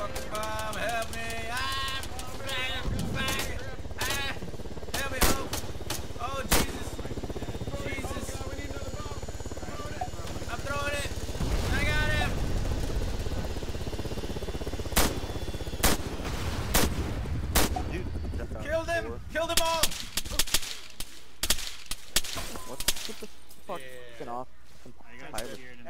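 Gunfire in the military shooter game Arma 3, with repeated sharp shots and bursts spread across the clip, some loud and near and others more distant, heard under ongoing voice chat and radio-style talk.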